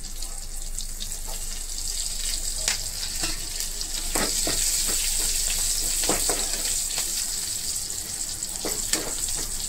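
Curry leaves and boiled chickpeas fry in hot oil for a chickpea bhel, making a loud, steady crackling sizzle punctuated by frequent short pops and stirring sounds.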